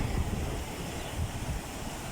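Ocean waves washing against a rocky shore, a continuous broad rushing roar with gentle swells and a steady windy hiss, no voices.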